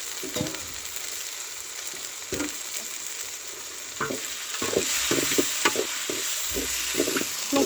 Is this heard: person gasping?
no